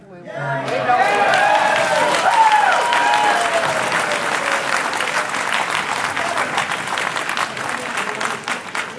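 A crowd at a public meeting breaks into loud, sustained clapping that lasts several seconds and slowly thins out, with a brief voice near the start.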